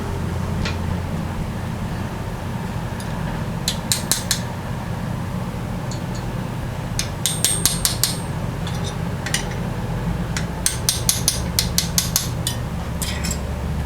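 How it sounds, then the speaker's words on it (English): A metal punch struck with a hammer into aluminum packed around a babbitt bearing gives sharp metallic taps in quick clusters over a steady background hum, fairly close. "we're going to take a punch, and we're going to punch in on our aluminum there"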